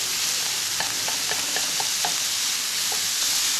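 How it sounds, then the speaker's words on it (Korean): Ingredients, including meat, are stir-fried in a pan, with a steady background sizzle and a series of light scraping, tapping strokes from the utensil spaced through the middle of the clip; no one speaks. "대충 잘 볶아줍니다"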